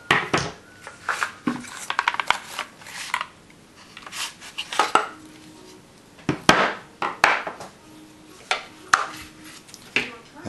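Metal parts of a 9mm USC carbine clicking, scraping and clacking as it is field stripped by hand, a run of sharp close transients and rattles with quiet gaps between them.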